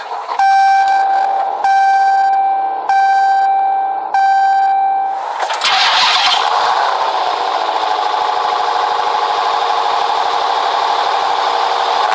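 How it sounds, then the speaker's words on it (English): A 2022 Dodge Charger SRT Hellcat Redeye cold-starts after a few repeated chimes and a brief starter whir, its engine catching loudly near six seconds and settling into a steady, heavy idle roar. "keeping my foot on the brake, we can go ahead and fire it up"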